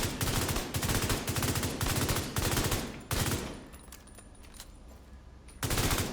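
Short repeated bursts of rifle fire in The Division, several rapid clusters of shots with a quiet pause in the middle before a final burst, loud and close with no talking.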